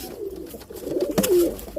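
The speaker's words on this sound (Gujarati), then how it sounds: "તમે જે કબૂતર છે એની અંદરમાં પક્ષીઓમાં પણ કેટલી લડાઈ હાલતી હોય છે" Pigeons squabble over food, with a brief scuffle of close cooing and wing noise and a short sharp burst near the end, heard alone without voices.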